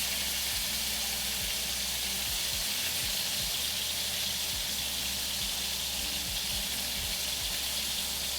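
Pork belly sears in a hot pan for Filipino adobo, giving a steady, loud, dense sizzle with constant crackling and spatter from start to finish and no voices.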